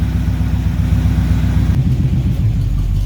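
Steady low idle rumble of a 1974 Oldsmobile Omega engine with a throbbing, slightly uneven rhythm, close and loud, as the car is put in reverse.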